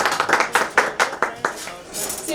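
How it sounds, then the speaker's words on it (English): An audience claps for Santa Claus at a Christmas show, a brief run of loud, distinct hand claps, about eight in quick succession, with a faint voice underneath. "So please give him a big round of applause."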